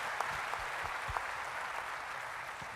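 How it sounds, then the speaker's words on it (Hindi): An audience at a Forever Living India success event in Lucknow claps loudly together, a thick, continuous wash of applause with a few sharper individual claps standing out near the start. "एक बार जोरदार तालियां उस मैनेजमेंट के लिए होनी चाहिए।"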